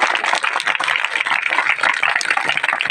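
Guests at a village Christian wedding applaud with dense, steady, close clapping that fills all three seconds, with a few voices mixed into the crowd.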